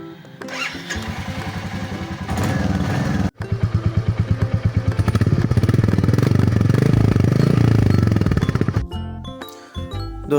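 A motorcycle engine starts up close by and settles into a loud, steady throbbing run before cutting out near the end, with no speech.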